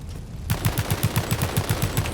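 Rapid automatic gunfire in the video game World War 3, a steady burst of about a dozen evenly spaced loud shots that starts abruptly after a short quiet moment.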